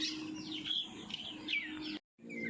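Young chicks in a poultry shed chirp and cheep continuously, many high peeping calls overlapping at close range over a low hum, cutting out briefly before resuming.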